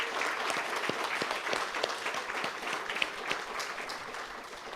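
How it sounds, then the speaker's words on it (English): Steady applause from a crowd at a housing handover ceremony in Dominica's Kalinago Territory, a dense patter of clapping that continues evenly throughout, heard from a moderate distance. "Please extend a hand of applause to our European Union friends."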